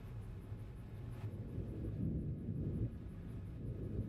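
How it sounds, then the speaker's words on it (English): Low thunder rumbles distantly through a stormy scene in Gold Mining Simulator, a soft, rolling growl that swells and fades without sharp cracks. "And it is thunder and lightning out here, isn't it?"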